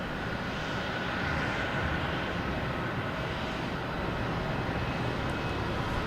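A steady, loud roar from an airplane engine at Boston Logan Airport holds without a break across the whole stretch. The broad rumble is continuous, with no voices.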